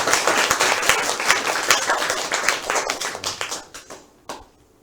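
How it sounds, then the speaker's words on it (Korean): A church congregation claps at an anniversary Sunday worship service, sharp, rhythmic hand claps that are loud and close at first, then taper off into a few scattered final claps. "하나님께 영광의 박수 올려드립니다."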